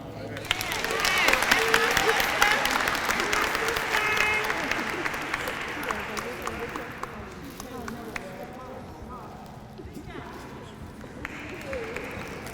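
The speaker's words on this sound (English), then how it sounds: "Give her another round of applause" An audience at a Women's History Month closing ceremony applauds a speaker, dense clapping that swells early and then thins into scattered claps, with voices talking underneath.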